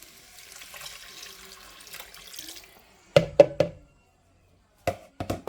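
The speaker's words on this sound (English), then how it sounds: "I'm going to go ahead and add in the beef broth." Beef broth pours into a pan of sautéed orzo as a steady, close liquid splash for about three seconds, followed by a few sharp knocks and taps against the pan.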